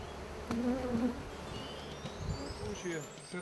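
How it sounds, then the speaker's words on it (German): Honeybees fly busily around a hive in a colony near swarming, a steady buzzing hum with a louder near pass and faint background noise. "Es scheint aber, dass die Bienen sehr aktiv fliegen."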